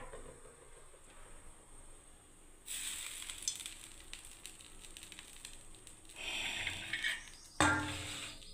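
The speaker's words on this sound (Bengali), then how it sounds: "এবার আমি দিয়ে দেবো ব্যাটারটাকে" Vegetable pitha batter poured into a hot pan for a breakfast dish, starting as a quiet hiss, then a sudden louder sizzle that swells again near the end with a sharp burst, no talk.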